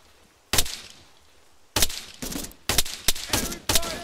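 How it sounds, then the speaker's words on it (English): Gunfire in the military video game Arma 3: five sharp, loud bursts at uneven intervals, each followed by a short decaying echo, with quiet background between shots. "Enemy fire!"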